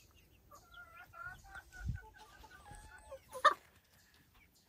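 Soft, repeated clucking from a Silkie rooster nearby, short chirpy calls in a loose rhythm with one sharper squawk near the end.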